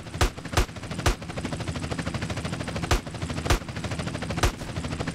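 Gunfire in GTA San Andreas rings out as six sharp, loud shots in irregular spacing, two close together at the start and the rest spread out, over a steady low background rumble.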